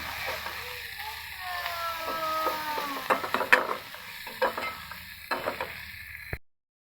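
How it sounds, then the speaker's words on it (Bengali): Spice paste with half a spoon of chili powder frying in oil in a pan for a broad bean seed curry, a steady low sizzle with a spoon scraping and stirring in close clicks and scrapes. "মশলাটা আমি ভালো মতো ভেজে নিচ্ছি।"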